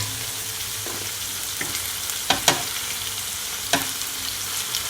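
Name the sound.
steak searing on a hibachi grill at home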